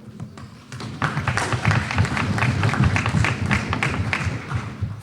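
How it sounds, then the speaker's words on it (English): Audience applause at an annual general meeting of a credit union, a full room clapping steadily and fairly loud for several seconds, with muffled crowd murmur underneath. "So you should give yourselves a bigger round of applause."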